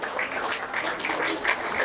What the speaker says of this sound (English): So a great round of applause to all of you